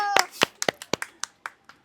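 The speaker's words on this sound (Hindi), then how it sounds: "तालियों से स्वागत है।" A small group claps to welcome a guest, with about nine sharp, separate handclaps, fairly close and spaced irregularly, fading out toward the end.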